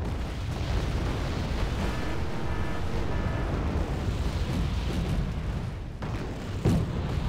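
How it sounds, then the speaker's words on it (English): Cluster bombs detonate in the Wargame: Red Dragon strategy game, a dense, continuous rumble of overlapping blasts and crackling bursts lasting several seconds, with a sharper pop near the end. "I get bombed by cluster bombers."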